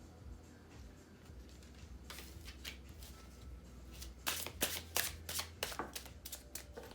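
Tarot cards shuffled by hand, quiet rustling at first, then a run of crisp riffling bursts in quick succession close to the listener, without any speech.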